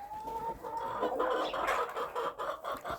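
Cochin chickens cluck and murmur close by in a continuous, low chatter, with a brief higher call at the start.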